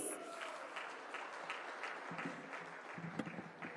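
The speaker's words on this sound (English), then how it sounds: "Let's hear it for a huge round of applause, please." Scattered applause from an awards ceremony audience in India, quiet and distant, with a rhythmic, partly regular clapping pattern and some crowd noise mixed in.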